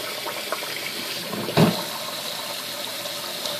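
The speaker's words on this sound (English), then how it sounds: "run them under cold water immediately" Cold tap water runs over freshly cooked hard-boiled eggs in a steady, moderate stream, with a brief louder splash in the middle.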